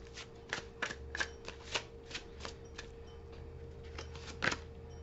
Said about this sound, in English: I'm going to go ahead and pull some cards really quick